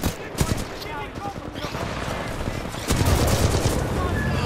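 Gunfire in Titanfall 2, sharp rapid bursts of shots with some louder cracks, the firing growing heavier and denser toward the end, with a voice talking over part of it.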